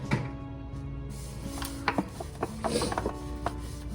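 Hands rub oil and seasoning into a raw pot roast with soft, close scrubbing and wet slaps, plus a few sharper knocks on the board and no talk.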